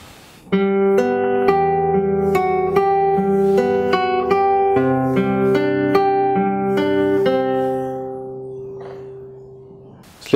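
Close acoustic guitar fingerpicking a phrase, with a steady flowing run of plucked notes over a sustained bass, slowing near the end as the last notes decay.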